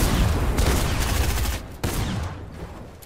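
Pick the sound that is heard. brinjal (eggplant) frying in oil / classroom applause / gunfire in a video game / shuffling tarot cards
gunfire in a video game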